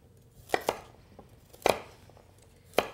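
A knife chops carrots into angled chunks on a cutting board for a roast herb chicken dish, with three sharp separate knocks spread out slowly, each one close and clear over a quiet kitchen background.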